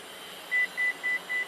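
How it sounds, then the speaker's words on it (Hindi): On a Toyota Fortuner Legender, the tailgate sounds four evenly spaced electronic beeps as its opening height is set, clear over a low background hum. "तो ये गाड़ी 4 दफ़ा बीप करेगी और अब इसकी नई हाइट सेट हो गई है।"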